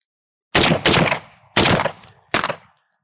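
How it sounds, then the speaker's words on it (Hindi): A semi-automatic rifle fires three separate rounds, each trigger pull giving a loud, close, sharp report, the first two close together and the third after a pause, each with a short decaying echo. "मैंने इसको सेमी ऑटोमेटिक पे रखा है, मैंने जितने फायर करने हैं हर दफा मुझे फायर करना पड़ेगा ट्रिगर दबा के। I am going to fire 3 round."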